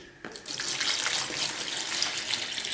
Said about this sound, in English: So we're just going to add the distilled water.